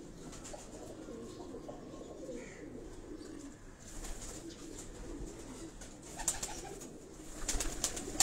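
Pigeons on a Karachi rooftop loft coo softly amid faint outdoor ambience, with scattered bird calls and light background noise throughout, no speech heard.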